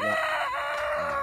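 A summoned chicken in a wuxia video game gives a continuous, loud, sustained crowing cry for just over a second, with no talk.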